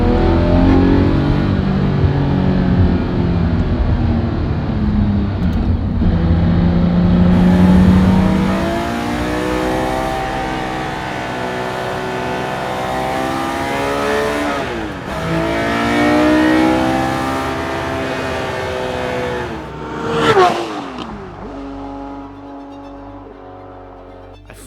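A Porsche 911 DLS reimagined by Singer drives and revs hard, its engine note climbing and dropping through several gear changes, loud and close, with one sharp burst near the end before it settles to an idle.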